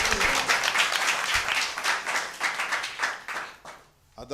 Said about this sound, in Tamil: கைத்தட்டி கர்த்தரை மையப்படுத்துவோமா?